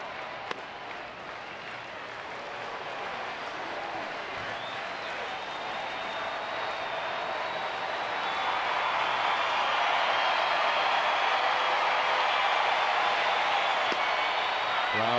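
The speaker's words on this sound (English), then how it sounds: "Crowd stirring here at the Big A." Baseball crowd at Angel Stadium during an evening game, a broad, steady murmur and clapping from tens of thousands of fans that builds gradually louder over the stretch, with a faint whistle-like tone drifting through.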